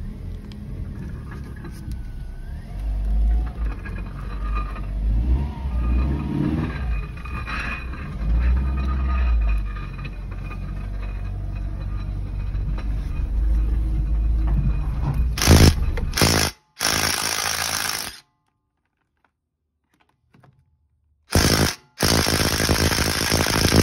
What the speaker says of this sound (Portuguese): Barulho aqui na pinça de freio,